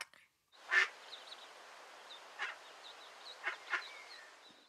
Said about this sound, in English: What sound does a duck make? Quack, quack.